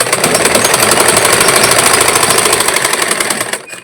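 A sewing machine runs a steady, loud, rapid stitching whir while sewing a hook strip onto a blouse, then slows and stops near the end, heard close up with no talking.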